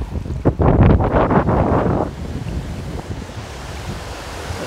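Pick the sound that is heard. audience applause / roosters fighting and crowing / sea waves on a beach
sea waves on a beach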